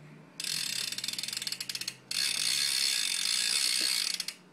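A 2014 Framed FX1 bike's rear wheel ratchet clicks close up in two runs, first a fast buzzing ticking that slows, then a longer steady whirring freewheel buzz.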